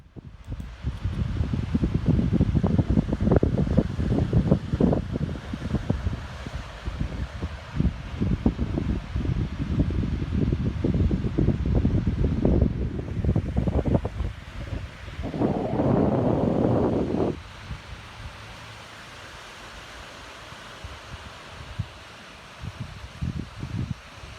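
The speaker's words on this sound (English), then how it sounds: "I'm always surprised by the powerful sound of the wind and the surf as you come over the crest of the dunes" Strong wind roars over coastal dunes beside the Gulf with surf behind it, a loud, gusty rush buffeting the microphone for most of the stretch before dropping to a quieter breeze near the end.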